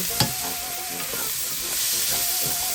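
Browning meat and small tomatoes sizzle steadily in a hot pan while a utensil stirs through them, with a few scraping knocks over the constant frying hiss.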